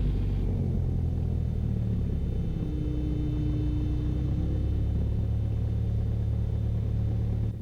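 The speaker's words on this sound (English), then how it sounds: "Let's get this thing back to idle." A small airplane's piston engine is throttled back to idle, giving a steady, loud low rumble that settles into a lower drone with a faint tone held in the middle.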